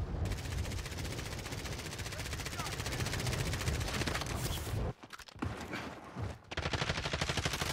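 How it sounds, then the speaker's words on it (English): Sustained automatic gunfire in Call of Duty: Warzone, loud and close, with rapid bursts running nearly nonstop, two short gaps breaking it before the shooting resumes, and speech mixed faintly underneath. "He's trying to shoot me through the building."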